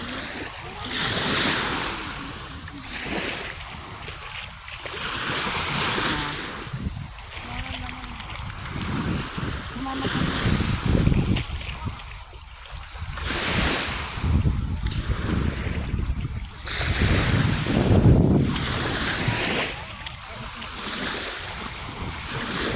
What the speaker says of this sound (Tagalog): Yan ang tubig.